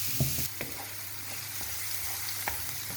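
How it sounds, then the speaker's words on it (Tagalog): Garlic frying in hot oil for homemade chili sauce, a quiet steady sizzle with a few soft clicks from stirring and no voices. "igisa natin"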